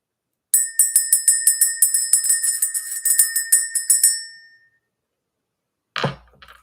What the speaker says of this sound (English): we're just going to go ahead and ring the bell